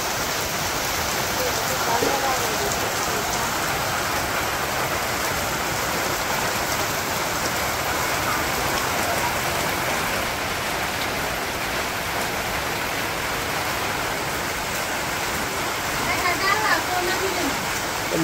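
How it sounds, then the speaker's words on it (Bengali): Heavy rain pours down steadily on a Bangladeshi village, a dense, even hiss of drops on surfaces that holds constant throughout with only slight swells near the end. "কত সুন্দর বৃষ্টি হয়েছে।"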